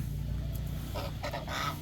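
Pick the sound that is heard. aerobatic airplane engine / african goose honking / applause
african goose honking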